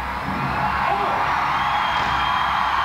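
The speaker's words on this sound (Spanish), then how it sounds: "¿Cuántos gritos, cuánta gente?" A huge crowd shouts and whoops at the 2023 Mexican Independence Day Grito, a continuous loud roar of many voices with no pauses, heard from within the mass of people.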